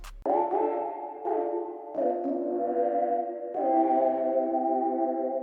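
Soft, bright electronic keyboard chords held and sustained, changing about four times with a smooth, mellow tone and no voices.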